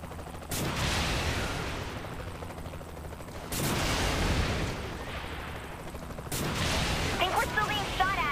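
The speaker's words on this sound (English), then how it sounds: "Think we're still being shot at." Dense bursts of gunfire in Saints Row: The Third, several loud rattling volleys that start abruptly and fade, separated by brief lulls, with a rumbling, explosive character.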